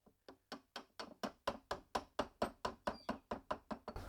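An A/C compressor front clutch plate is tapped onto its spline on a Subaru, about sixteen evenly spaced, sharp knocks in a steady rhythm. The knocks are close and crisp with no talking.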